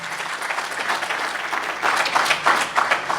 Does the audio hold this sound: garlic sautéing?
no